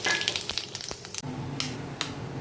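Whole cloves, green cardamom, cinnamon and cumin seeds hit hot oil with a bright close sizzle, crackling and popping in quick spits before settling into a softer steady fry, with no voices.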